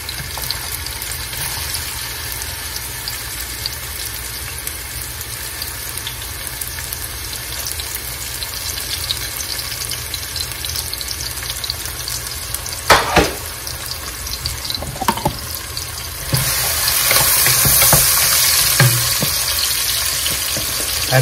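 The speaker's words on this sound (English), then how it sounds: "So I'm going to add some vegetable oil to the pan. Then I'm going to add ginger, onion, chopped onion," Onion, ginger and garlic crackle in vegetable oil in a pan for a vegetable biryani, with a continuous close sizzle, a few clinks of stirring and a louder hiss toward the end, with no one speaking.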